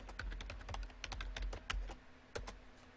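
Password being entered on a computer keyboard: a brief run of quick, soft key clicks at an uneven pace, close up and fairly quiet.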